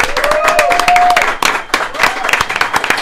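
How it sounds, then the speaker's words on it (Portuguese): Lively applause and cheering for actor and director Murilo Benício as a podcast guest, with clapping mixed with whoops and excited voices in a small studio audience. "muitas palmas pro nosso ator, diretor."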